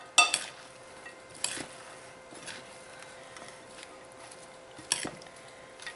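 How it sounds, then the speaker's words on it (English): Vegetable crunch salad is tossed in a bowl, soft rustling and scraping with a few sharp clinks of utensil against the bowl, fairly quiet and close. "And now I mix it all up"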